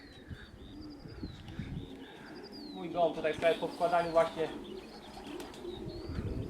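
Racing pigeons cooing at a loft as they return from a race flight in Czersk, Poland, their soft repeated coos rising in a cluster midway, with someone speaking Polish nearby and faint chirps around.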